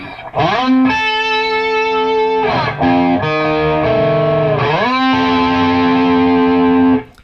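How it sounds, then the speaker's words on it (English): An electric guitar with heavy effects plays sustained notes that bend and slide in pitch using the tremolo bar, loud and close, with a pause in the middle. "as you slide up, it just kind of exaggerates the slide sound"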